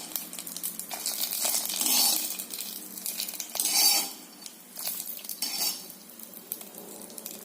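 Roasted cashews and ghee being stirred into wheat unniyappam batter, a close wet scraping and clinking of a spoon against the bowl in several bursts with brief pauses between.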